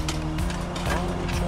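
Fire truck straining in deep blizzard snow on a Brooklyn Heights street, a steady low engine rumble with scraping and spinning noise, close and continuous.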